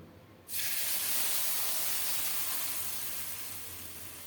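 Spice paste tipped into hot mustard oil tempered with cumin seeds and bay leaves bursts into a loud, sustained sizzle that fades slowly as it settles.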